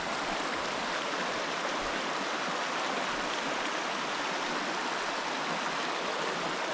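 Water of Rock Creek in the Blue Ridge Wildlife Management Area flows steadily, a constant close rushing hiss with no voices or breaks.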